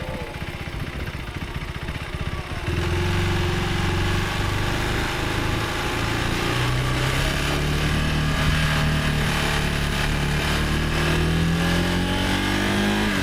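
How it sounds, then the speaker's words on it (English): KTM 390 Adventure R motorcycle engine droning steadily while riding along a main road, a continuous loud hum with rising and falling pitch as it shifts and accelerates, wind noise beneath and no speech. "Bike's still running fine."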